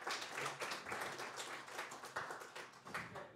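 Audience clapping at Clement's Place jazz club during a Kim Clarke Trio show, a steady dense patter of many hands that carries on evenly throughout with no talk over it.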